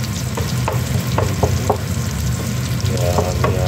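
Garlic and ginger sauté in a hot pan, a loud close sizzle and crackle with a few light stirring scrapes, steady throughout with no voices.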